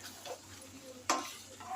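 A spoon stirs potol and potato egg curry with chopped coriander leaves in a pan, giving one sharp scrape against the pan over a faint background hum.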